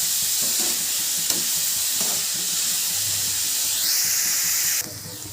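Onions sautéing in oil in a pan for an egg curry: a steady, loud sizzling hiss, close up, with faint stirring scrapes underneath; the sizzle drops off sharply near the end.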